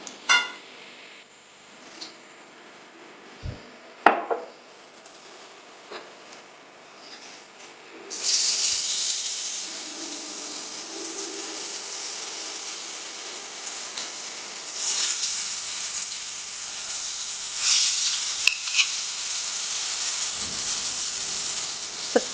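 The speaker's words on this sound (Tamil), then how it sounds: "இந்த பேன் சூடானோடனே இந்த ப்ரான்ஸ் எடுத்து நான் இதில் ஃப்ரை பண்ணுறோம்" Prawns frying in hot oil in a heated pan make a loud, broad hiss that swells partway through and holds steady, with scattered pan clatter and brief knocks nearby early on.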